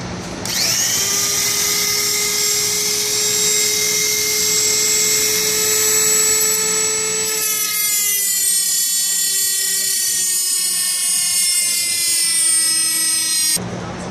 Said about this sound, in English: You also want this grinding disc for your Dremel tool.